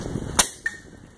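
An air gun fires a single sharp crack, followed a moment later by a brief metallic ping of the pellet striking a target outdoors, both close and short against a quiet background.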